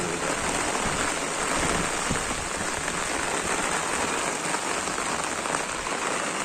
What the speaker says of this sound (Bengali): এখন আবার বৃষ্টি শুরু হয়েছে